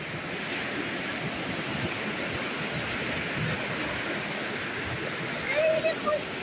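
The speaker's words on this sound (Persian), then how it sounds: "بریم رودخونه‌اش رو بهتون نشون بدم" A river rushes past a countryside garden in northern Iran, a constant broad wash of flowing water heard close by, with a brief voice near the end.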